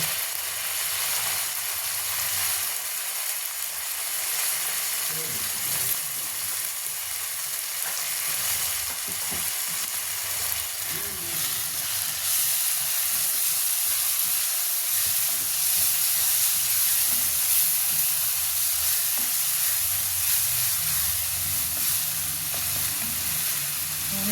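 Garlic, chili, ginger and onion fry in a kadai with a dense, steady sizzle and hiss that holds loud and unbroken throughout, with occasional stirring scrapes underneath.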